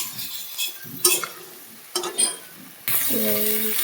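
Ginger paste being stirred in a cooking pan, with a few scraping and clinking strokes of a utensil against the metal, then a burst of sizzling near the end.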